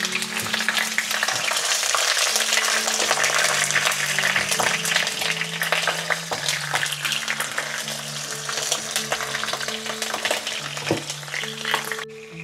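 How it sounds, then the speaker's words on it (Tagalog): Dried fish (daing) fries in a pan of hot oil, giving a loud, continuous sizzle and crackle close up, with occasional clinks of a utensil and a steady electrical hum underneath. "Una natin ilalagay dito ay yung ating daing na isda. So ipiprito muna natin siya"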